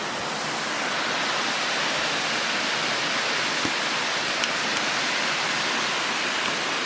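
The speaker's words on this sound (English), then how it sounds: "now I am down at a waterfall" A waterfall in wet late-autumn foothills roars as a dense, constant broadband rush, loud and steady with no other sounds standing out over about seven seconds.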